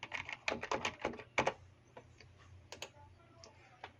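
Password being typed on a computer keyboard: sharp, close key clicks in quick irregular bursts, then a few sparser taps against a quiet background.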